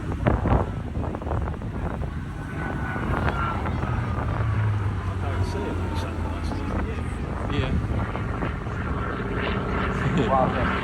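A Hawker propeller fighter's supercharged engine drones loudly and steadily in a flyby at the 2022 Bournemouth Air Festival, a continuous roar with rushing wind noise, sounding fairly close.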